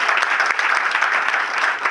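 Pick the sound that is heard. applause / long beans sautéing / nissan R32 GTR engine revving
applause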